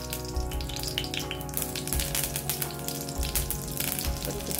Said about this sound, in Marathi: थोडंसं तेल घालते फोडणीसाठी